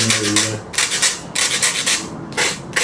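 Sandpaper rubbing down a wooden build piece in four loud, close, rhythmic bursts with short gaps between strokes, and no talking.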